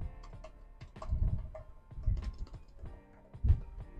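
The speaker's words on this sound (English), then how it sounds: "So here's how the keyboard sounds like." Typing on the keyboard of an ASUS Vivobook Go 15 laptop, close light key clicks in uneven bursts with a few heavier thumps, soft and alone without talk.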